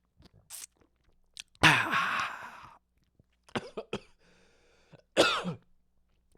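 Several coughs close to the mic: a short one, then a long harsh coughing burst, some small throat and mouth noises, and a final hard cough.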